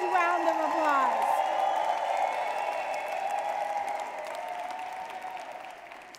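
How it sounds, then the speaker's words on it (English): A conference audience gives a round of applause, a broad wash of clapping that fades gradually, with a voice and tones carrying over it. "huge round of applause."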